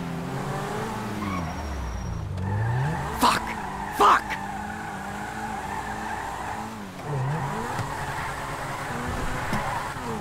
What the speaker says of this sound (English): Shit, what's that car?